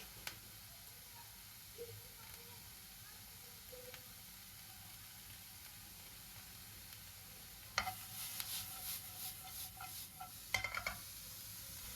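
Onions and carrots sautéing in a pan for a bolognese pasta sauce, a faint, steady background sizzle with light stirring scrapes and a louder burst of stirring and clatter near the end.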